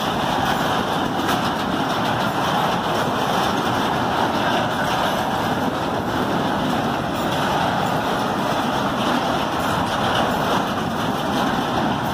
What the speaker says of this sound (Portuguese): o trem carregado se aproxima